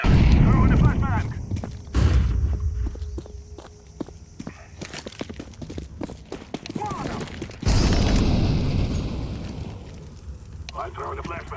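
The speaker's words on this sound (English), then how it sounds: "Throwing a flashbang." A Counter-Strike flashbang grenade is thrown on the Ancient map in a competitive match, with two sharp, loud broadband bursts standing out over a busy bed of footsteps and game noise.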